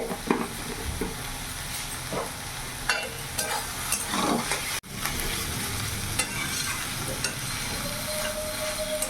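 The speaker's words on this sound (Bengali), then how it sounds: "এইভাবে 5 মিনিট আমি ভালো করে ভাজা ভাজা করে নিয়েছি।" Snake gourd fries in a pan with a continuous close sizzle and hiss, punctuated by periodic scraping strokes of a spatula stirring the pieces.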